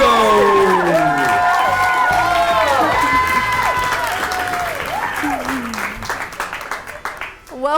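A studio audience at the Game Night edition of the Tonight at Olivet show claps and cheers loudly and steadily, with whoops and excited voices rising over the applause before it trails off near the end.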